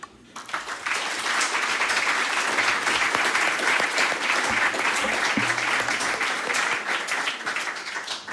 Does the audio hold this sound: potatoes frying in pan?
no